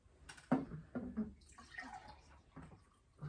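Water poured from a jug or bottle into a drinking glass at a table, a short burbling, splashing pour of a few seconds heard close up.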